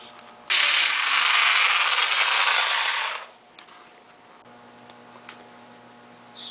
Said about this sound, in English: so I'll try drilling it a little more.